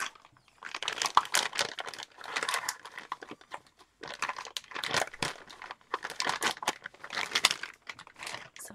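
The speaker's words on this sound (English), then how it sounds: "Sorry about the crinkling." A wrapper or packet crinkles up close in repeated bursts of crackling separated by short pauses, fairly faint and with no voices.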